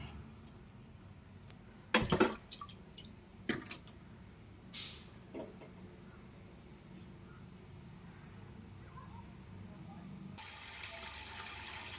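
Water poured while rinsing cleaned fish, with scattered splashes and knocks in a sink before a steady stream of pouring water at the end.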